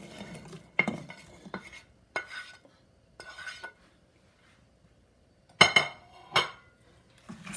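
Carrots, tomato, onion, garlic and pumpkin are stirred into a pot of corn soup: several short scraping bursts with light clinks against the pot, separated by quiet pauses.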